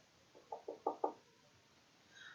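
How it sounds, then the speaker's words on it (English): Four quiet, evenly spaced taps on a door in quick succession, light and close, followed by silence. "Her mom is tapping on the door."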